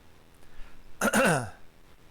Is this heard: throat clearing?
yes